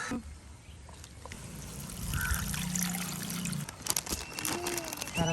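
Water trickles and pours with a soft splashing, fairly close, to soak ingredients for odiyal flour puttu, followed by a few clinks and handling sounds; no talking.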